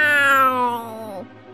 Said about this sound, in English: they were greeted by a big and ferocious cat.